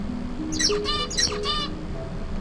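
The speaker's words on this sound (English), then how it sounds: "the bird learns the other transitions, A, B, and then it can sing the correct song" A songbird sings its learned song, two close, clear bursts of bright chirps and whistled trills with a short pause between them.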